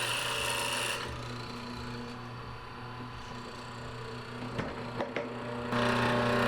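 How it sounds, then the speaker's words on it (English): A hollow chisel mortiser bores a square hole into a block of soap, a steady machine hum with a rasping, scraping cut swelling near the start and end and brief clicks in between. "This is a block of soap, and this is a hollow chisel mortiser. This cuts a perfectly square hole."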